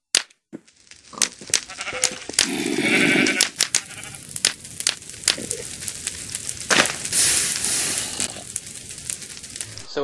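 Sheep bleat in a Minecraft 1.4 snapshot game while shears give sharp, brief snipping clicks scattered throughout, with a longer bleat mid-way and a few overlapping game effects, all fairly close and loud.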